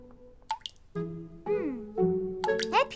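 A leaking tap in a cartoon drips in a series of plopping, pitched drops that bend up and down in tone, several in a row over about three seconds, close and clear with musical tones.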